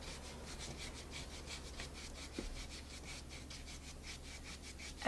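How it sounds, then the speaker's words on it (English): Dry pastel rubbed across paper in steady back-and-forth strokes, a soft, close, repetitive scratchy swish with no talking. "This is dry rubbing."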